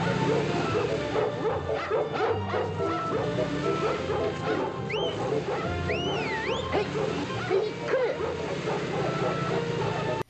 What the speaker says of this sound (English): And just to prove that Herbie is part dog